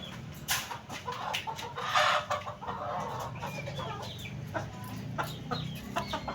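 Chickens cluck close by, with repeated short clucks and squawks over a busy farmyard background, and a distant crow mixed in.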